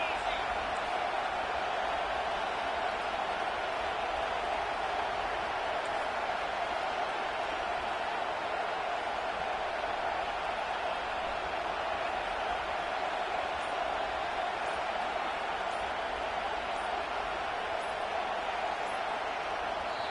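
A stadium crowd roars steadily in a college football video game between South Carolina and Penn State on a big third down, a dense, constant wall of cheering that never lets up.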